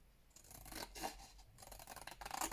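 Scissors trimming paper for a handmade envelope notebook, a series of close, crisp snipping and slicing cuts in quick bursts, faint, with no talk.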